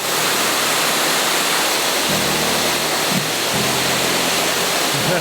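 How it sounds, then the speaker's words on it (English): Suratali Ella waterfall in Sri Lanka roars in a steady, loud broadband rush of falling water that holds constant throughout, with no voices over it. "we stopped at another waterfall called Suratali Ella"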